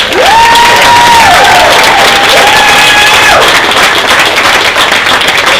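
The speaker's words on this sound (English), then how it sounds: "I think we also should give a round of applause for our hosts here tonight" Loud, sustained applause from an audience at a media awards ceremony, filling the room steadily from start to finish, with a brief whistled or cheering tone rising over the clapping.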